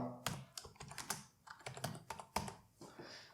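C++ code typed on a computer keyboard: a quick, steady run of close key clicks and taps, quiet, with no voices.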